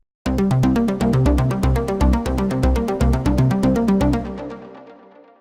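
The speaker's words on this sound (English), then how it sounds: "Currently the arpeggiator sounds like this." A bright arpeggio from a Sonic Academy ANA 2 software synthesizer ripples through rapid, evenly spaced notes in a repeating pattern, then stops and its tail fades out.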